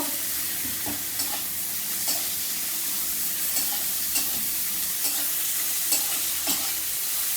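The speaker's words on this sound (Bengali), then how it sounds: "আবারও আমি মশলাটাকে ভালো করে ভেজে নেব" Garlic, ginger and spice paste frying over fried onions in a pan, a steady bright sizzle with regular scraping stir strokes about once a second, close and continuous with no talk.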